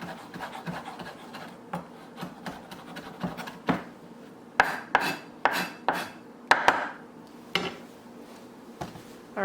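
A knife chops fresh garden herbs on a board for a crustless quiche, an irregular run of sharp taps and scrapes that grow louder and more clustered midway, with no talking.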